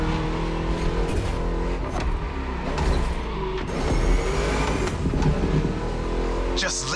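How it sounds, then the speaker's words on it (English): V8 muscle car engine revving and roaring in The Crew Motorfest racing game, played on a Thrustmaster T300RS wheel, a steady loud engine drone with throttle swells throughout, while a voice talks over it. "Just listen to that V8"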